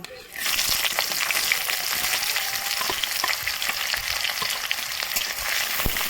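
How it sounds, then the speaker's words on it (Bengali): Chopped onion fries in hot oil with bay leaf and whole garam masala, a continuous bright sizzle with faint stirring scrapes, close and steady after a quiet start. "আমি ভালো করে ভেজে নেব।"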